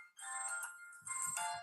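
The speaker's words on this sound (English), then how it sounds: "somebody is calling me during the show." A phone's incoming-call ringtone sounds during a live psychic reading show: a short, fairly quiet melodic electronic tune of under two seconds, heard alone without speech.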